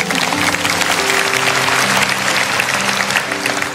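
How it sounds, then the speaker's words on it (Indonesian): A church congregation claps together in steady, dense applause that fills the room throughout, with sustained musical tones beneath. "Yang percaya kasih tepuk tangan untuk Tuhan"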